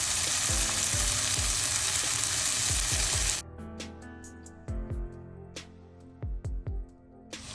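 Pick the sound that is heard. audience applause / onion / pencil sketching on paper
onion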